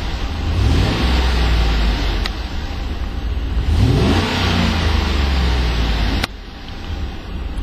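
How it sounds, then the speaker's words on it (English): A 2011 Chevrolet Tahoe LTZ with its Vortec V8 revs up twice from idle, close and loud, each rise climbing then falling back to a rumbling idle, with no talking. "And let's see what that Vortec sounds like."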